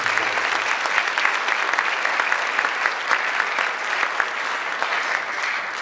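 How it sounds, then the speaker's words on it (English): Steady audience applause fills a high school jazz night concert hall, dense overlapping clapping sustained at even loudness for several seconds with no speech over it. "So give them all a round of applause for the administration."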